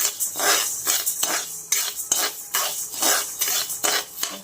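Lentils dry-roasting in a pan over a low flame, with a steady run of scraping and clinking strokes as a spoon turns them, repeating roughly every half second and fairly close.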